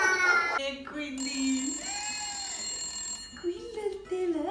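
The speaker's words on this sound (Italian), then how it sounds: "squilla il telefono." A telephone rings during a call-in show, giving sustained electronic ringing tones that start just after a voice and fade as talk resumes near the end.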